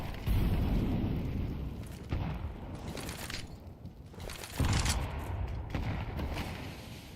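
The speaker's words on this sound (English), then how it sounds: "Oh, nice nades being tossed." Grenade blasts and gunfire in a Counter-Strike-style tournament match, a dense run of booming explosions and crackling shots that swell and fade over several seconds, fairly loud and continuous with no clear talk.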